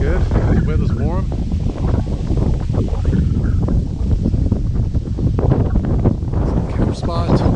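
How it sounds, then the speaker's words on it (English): Wind gusts at a warm camp spot in Puertecitos, Baja, buffeting the microphone in a loud, continuous rumble while people talk over it. "it is windy"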